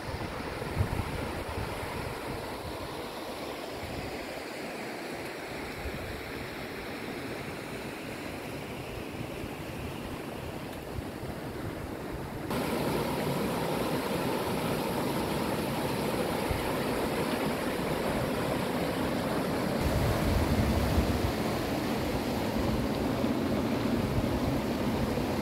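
River water flows at a mountain park in a steady, loud, close rushing roar that swells slightly partway through, with wind noise buffeting the microphone and no talk.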